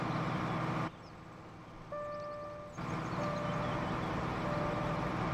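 A vehicle starting up in Farming Simulator 2013, with a loud engine drone that cuts out briefly, then a steady beeping tone before the engine noise resumes and runs on alone.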